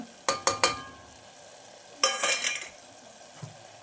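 Turmeric, sambar powder and chili powder frying in a pan for a drumstick gojju: a few sharp metallic spoon clinks against the pan, then a scraping stir over a faint, soft sizzle in a quiet kitchen.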